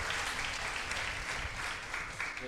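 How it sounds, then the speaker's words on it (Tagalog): A church congregation at a Sunday worship service bursts into applause, a full, continuous roar of many clapping hands that holds steady and eases slightly near the end. "ang pinakamalakas na palakpak po, ibigay natin sa Diyos"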